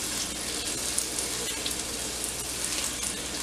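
Potatoes fry in a pan of hot oil with a steady, close sizzle and faint crackle that holds unbroken throughout, with no voices.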